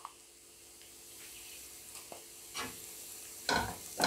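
Egg curry masala with garam masala being sautéed in a pan: faint, quiet stirring scrapes and soft sizzles, with louder bursts of scraping toward the end, no voices.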